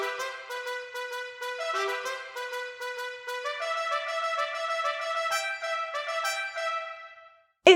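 Trumpet playing a bright, stepwise melody in a piece of music, heard alone with steady tonal notes throughout and a brief pause near the end before a sudden loud note.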